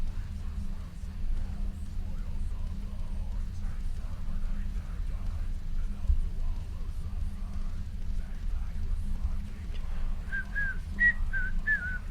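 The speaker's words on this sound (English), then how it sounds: "Just whistling guitar riffs." Someone whistles a short, bright melodic phrase near the end, over a steady low background hum; the tune comes in quick, clipped notes.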